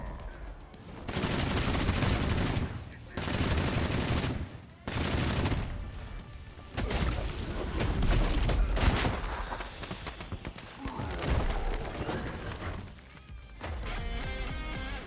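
Heavy-recoil gunfire in the roguelike game Kiborg, repeated bursts of loud, dense shooting broken by brief pauses, with crashing impacts throughout.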